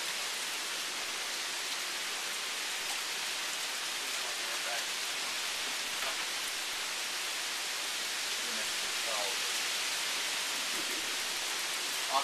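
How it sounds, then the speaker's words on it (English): Steady rain and wind from Hurricane Irene wash over the scene as a broad, even hiss that stays level throughout, with no voices. "Not at all bothered by the wind and the breeze and the rain."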